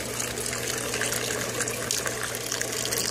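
Water rushes steadily as a bell siphon in an aquaponic system begins to drain, a loud, continuous broadband gush with no talking.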